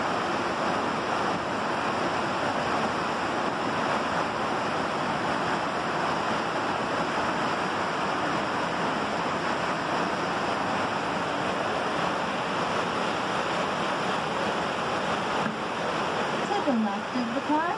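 Steady roar of rapidly swirling, churning river water near Niagara Falls, loud and continuous throughout, with a constant broadband wash and no breaks.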